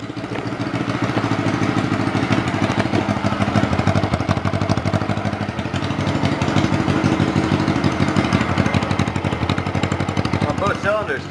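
A Honda CB125T motorcycle engine runs at a steady, close idle with a rapid, even pulsing throughout, rough but continuous.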